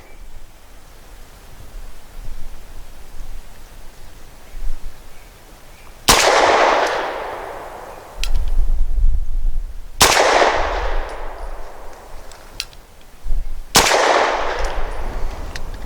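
A Walther P5 pistol fires four sharp, loud gunshots outdoors, spaced a few seconds apart, each with a short echoing tail over wind noise.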